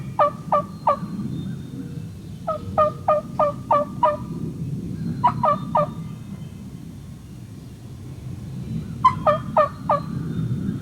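Wild turkeys gobble outdoors in spring, four bursts of rapid rattling gobbles at fairly close range over a low rumbling background, with no talking.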